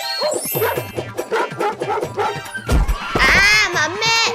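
Dogs bark, yip and whimper in a chaotic scuffle amid a comedy skit, close and loud, mixed with shouting voices and a crash-like burst near the end.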